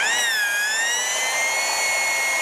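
A Black and Decker 7004 drill spins with Scotch-Brite wrapped around its rusty chuck, giving a close, steady high-pitched motor whine that rises slightly as it comes up to speed and then holds, with no voices.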